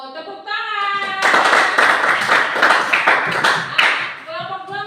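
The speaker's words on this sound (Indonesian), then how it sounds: "Oh, tepuk tangan." Classroom applause from a group of students during an English lesson in an Indonesian school: a dense burst of clapping lasting a few seconds, with a teacher's voice just before and after.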